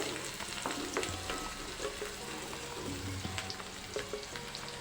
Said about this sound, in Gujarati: ચારથી પાંચ નંગ જેટલા કાજુ લીધેલા છે તેને પણ તેમાં એડ કરીને સાતળી લઈશું